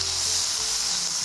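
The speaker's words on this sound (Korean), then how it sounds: "양파 파는 넣어서 볶아주세요" Onions and green onions stir-fry in a hot pan, a steady close sizzle with a faint low hum underneath, brief and continuous.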